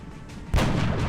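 Sniper rifle shot in XCOM: Enemy Unknown, one sharp loud crack after a half-second of quiet ambience, followed by a ringing, decaying tail.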